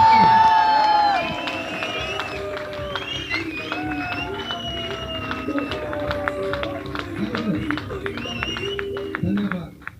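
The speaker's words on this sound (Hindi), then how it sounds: "एक बार जोरदार हल्ला, जोरदार ताली, जोरदार सीटी के साथ।" A crowd at a Safe Shop Emerald promotion event cheers loudly with scattered whistles and shouts, a steady roar of voices and noise lasting several seconds before cutting off.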